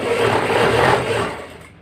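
A sewing machine stitches blouse fabric with a steady, close, buzzing whir that runs without pause, then slows and fades out near the end.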